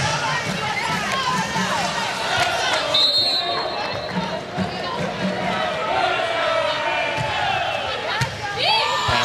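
Large, dense crowd roaring and cheering throughout a women's college volleyball match between Hawaii and American, with shrill whistles and shouts rising over the steady din and a commentator talking underneath.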